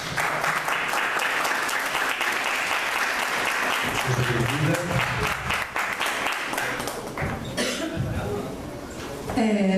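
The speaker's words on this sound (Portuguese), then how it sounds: "vou chamar aqui a Angelica, uma salva de palmas, por favor." An audience at a lecture gives a sustained round of applause for an incoming speaker, dense steady clapping for most of the time with a cough or two, fading as a voice begins speaking near the end.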